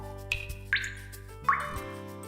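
Single water drops falling one by one, each landing with a clear, resonant plop followed by a short ringing tail, close and distinct in an otherwise quiet space.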